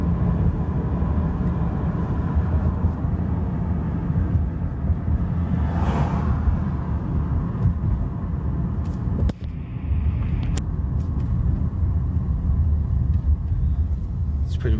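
A car drives through a residential neighborhood near a lake, field and playground, its steady low engine and road rumble continuous and close throughout, with a brief dip midway.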